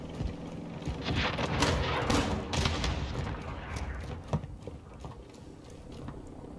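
Video game gunfire with a burst of rapid shots and heavy booms, fairly loud and nearby at first, then thinning into scattered single cracks and softer shots toward the end.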